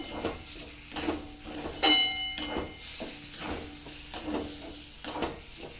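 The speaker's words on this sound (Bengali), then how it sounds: "আমি বেশ কিছুক্ষণ ধরে মিশ্রণটাকে ভালো করে নাড়াচাড়া করে নিচ্ছি" Peas and rice flour mixture stirred in a pan, with soft scraping strokes repeating roughly every second, a brief metallic clink near the middle, and a faint sizzle underneath, close by.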